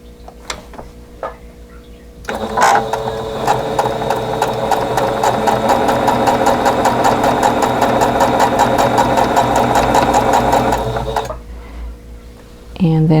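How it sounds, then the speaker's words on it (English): A sewing machine stitches a quarter-inch seam on quilting fabric, a rapid, even stream of needle clicks and motor whir lasting several seconds, with quieter handling noise before and after. "then sew it with 1/4 of an inch seam allowance"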